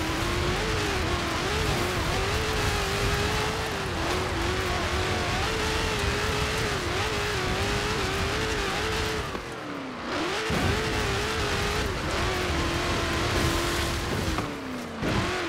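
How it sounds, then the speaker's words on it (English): The engine of a 2018 Dodge Challenger SRT in Forza Horizon 4 roars loud and constant, holding high revs with its pitch wavering as it shifts, and briefly dips twice as the car lifts off and accelerates again. "I like this angry sounding engine."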